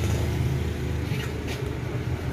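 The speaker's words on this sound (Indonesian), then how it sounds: "Jadi kalau dihidupkan ini brebet ya, brebet parah." A Honda Revo FI fuel-injected motorcycle idles roughly with a steady low rumble and uneven sputtering, running poorly from a fuel fault with black soot in the exhaust, close by with no talk.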